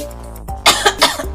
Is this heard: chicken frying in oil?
no